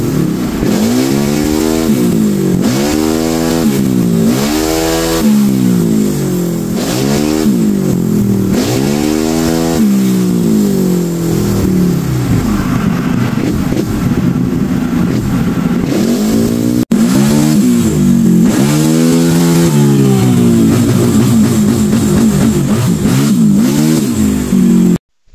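A Yamaha Mio i 125 scooter engine revs hard and repeatedly in rising and falling sweeps during ECU tuning, with a loud, close, continuous drone between the revs.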